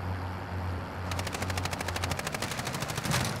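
Rapid automatic gunfire in a video game truck round, starting about a third of the way in as a steady loud rattle of dense repeated shots that continues to the end.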